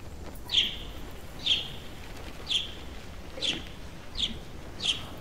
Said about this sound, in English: Oh, it's the bird.